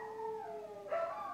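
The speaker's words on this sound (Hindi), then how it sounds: "ये कुत्ते भौंक रहे हैं भाई" Dogs howling nearby in a long drawn-out wail, with a second voice rising and joining near the end; no barks stand out.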